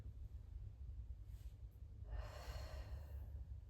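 A person doing a chest-opening breathing exercise takes an audible breath in and lets it out softly, close and quiet over a low background hum.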